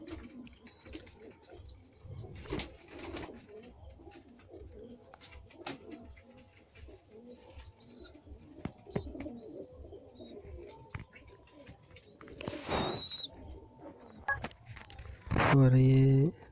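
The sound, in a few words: Madrasi pigeons cooing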